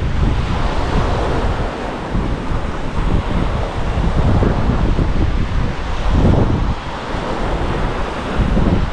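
Ocean waves wash onto a beach on Phu Quoc, Vietnam, as a steady, loud surf roar blended with wind noise on the microphone, rolling on without a break and with no voices.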